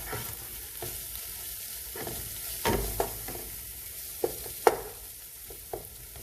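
Spices and softening tomatoes are stirred in a frying pan for a salmon curry with peppers, a soft steady sizzle under scattered spoon scrapes and a few sharp clinks against the pan, close and fairly quiet.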